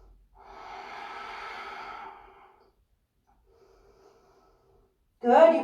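A long, soft breath out through the nose during a yoga stretch, lasting about two seconds, followed by quiet, then a brief sharp burst at the end.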